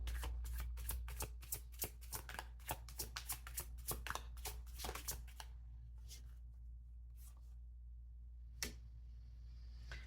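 Tarot cards being shuffled close by to draw a clarifier card, a quick run of crisp riffling flicks for about five seconds, then a few scattered card taps in a quiet room.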